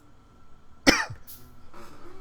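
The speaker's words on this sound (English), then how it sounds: "Excuse me while I clear my throat." A single sharp throat clear from a man close to the microphone, a brief harsh burst followed by a softer trailing rasp, with quiet room background.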